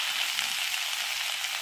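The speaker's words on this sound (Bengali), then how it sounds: "জিরাটা কিন্তু ভাজা ভাজা হয়ে গেছে। এবারে শাকটা দিয়ে দিচ্ছি।" Leafy greens hit a pan of cumin seeds already fried in oil, producing a steady, fairly soft hissing sizzle, heard alone with no speech.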